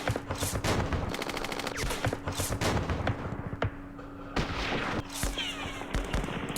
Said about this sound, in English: Oh, there's so much French artillery.